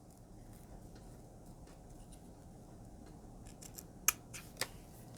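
Scissors cut and trim material in a quiet room, with soft faint handling noise followed by two sharp close snips near the end.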